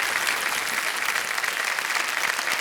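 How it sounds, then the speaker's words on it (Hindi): A studio audience on the KBC quiz show claps loudly and continuously for a contestant's win, a dense, even wash of applause throughout. "तालियों के साथ इनका हम अभिनंदन करते हैं"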